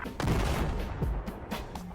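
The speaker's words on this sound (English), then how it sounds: "I wanted to test the attention to detail of the destruction by detonating a C4 on a building" A C4 charge detonating on a building in the Battlefield 4 video game, a loud booming blast followed by crackling debris and rumbling aftershocks, with further sharp bursts over the next two seconds.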